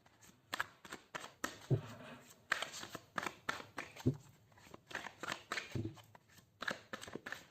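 Tarot cards are shuffled close up in a quiet room, a run of crisp riffling flicks and soft slaps in uneven bursts.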